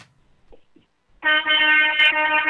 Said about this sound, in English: That's a special honk for a special fader